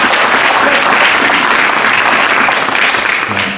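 A town hall audience meeting Grenada's Prime Minister in Washington DC breaks into loud, steady applause, a dense wash of many hands clapping close by that fills the whole stretch and tapers slightly at the end.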